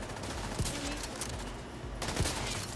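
Rapid automatic gunfire in The Division 2, a mag emptied in a sustained burst of shots with a few louder cracks standing out, close and loud throughout.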